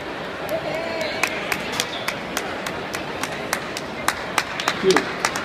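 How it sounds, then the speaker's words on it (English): Audience at a Las Vegas pasta demonstration clapping for two guests from Delverde Pasta, a steady field of scattered hand claps and taps with crowd murmur beneath, moderately close throughout. "Let's give a hand for David Kogan and Marco Cartechini from Delverde Pasta"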